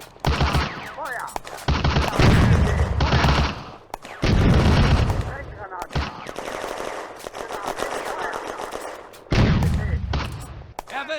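Bursts of machine-gun and rifle fire in Firefight, an Eastern Front war game at Voskhod Railway Junction, coming in loud rapid volleys separated by short pauses, with occasional shouted voices.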